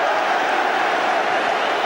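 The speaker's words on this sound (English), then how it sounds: "Crowd get up and complain." A football stadium crowd at an FA Cup semi-final between Oldham and Manchester United voices loud, sustained disapproval, a broad roar of complaint filling the ground.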